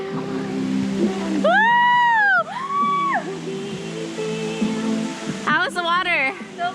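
A steady rushing roar of the Kuang Si waterfall in Laos fills the background, running beneath nearby voices and an excited shout.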